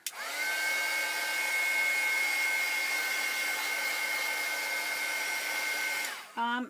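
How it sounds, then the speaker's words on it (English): A heat tool blows hot air over painted hot glue embellishments, a loud steady whirring blast that runs for about six seconds and then cuts off briefly before restarting, with no talking. "But I'm blowing a little bit of heat to get going, so then I don't have to wait."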